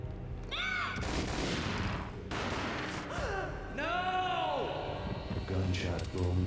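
Gunfire booms in Max Payne, a few heavy shots clustered among whooshing slow-motion effects, a gasp and a shout, with voices in the mix.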